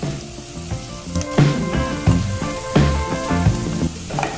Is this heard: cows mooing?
no